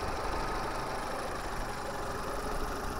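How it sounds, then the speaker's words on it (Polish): A Renault Clio Kombi engine idles smoothly and evenly, a steady low rumble and hum held close and constant with no revving or talk. "Silniczek pracuje równiutko."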